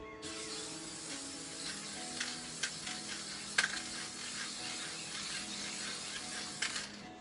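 Krylon Workable Fixatif aerosol sprayed across the top of a coloring page: a steady broadband hiss lasting several seconds, with a few faint clicks and clacks of the can mixed in, close and alone.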